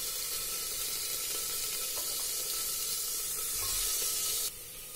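Potatoes hit hot oil already crackling with cumin, green chili and ginger, giving a dense, steady sizzle with faint stirring clinks that drops off sharply at the very end.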